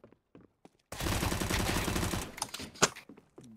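Gunfire in CS:GO on the de_marine map: a loud sustained burst of rapid automatic shots lasting over a second, followed by a few scattered sharper shots and game sounds.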